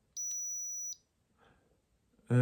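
A steady, piercing 6000 Hz test tone sounds alone for under a second, then gives way to near silence, a faint rustle and a sudden loud burst at the very end.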